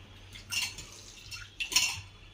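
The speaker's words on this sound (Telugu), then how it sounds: "ఉంటలు లేకుండా బాగా కలిపేస్తున్నా" A metal spoon stirs protein powder into milk in a cup, making two quiet clusters of clinks and scrapes against the side, close up in a calm kitchen.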